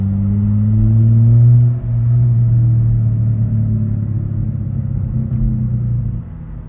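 A car engine held at about 2,000 RPM in second gear gives a steady, loud low rumble heard from inside, with a brief dip partway through and faint irregular pops under the drone.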